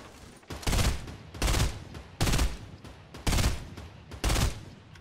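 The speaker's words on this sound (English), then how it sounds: "help me shoot the tree down" Gunfire in the Fortnite video game aimed at shooting a tree down: five loud, close bursts of rapid shots, each lasting about half a second and separated by short gaps.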